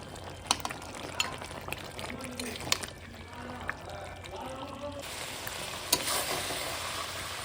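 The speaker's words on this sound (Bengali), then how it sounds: "ভালো করে মাংসটা কষে নিই" Mutton frying in a pot while being sautéed and stirred for a spicy kosha curry, heard as a moderate sizzle with repeated spoon scrapes and taps.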